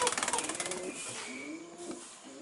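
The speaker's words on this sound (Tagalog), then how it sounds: "Guys, yan, nakikita nyo, daming kalapati." Pigeons cooing at an eco-tourism park: a quick train of rhythmic soft coos opens, followed by lower drawn-out coos from a flock nearby, fairly quiet with no talking over them.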